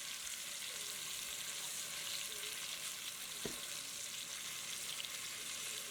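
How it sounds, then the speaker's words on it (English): Beef short ribs sear in a hot pan with a continuous hissing sizzle, steady and close, one brief clack of utensil or pan partway through, no talk. "So you can take a look at the searing process."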